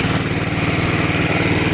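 A Honda HRX476 petrol lawnmower engine runs just after a pull-cord start, a loud, close, steady throbbing drone with no talk over it.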